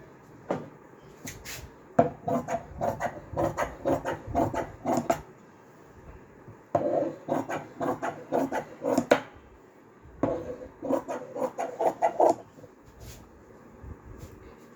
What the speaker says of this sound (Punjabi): ਪਹਿਲਾਂ ਅਸੀਂ ਬੈਲਟ ਦਾ ਕੱਪੜਾ ਕੱਟ ਲਾਂਗੇ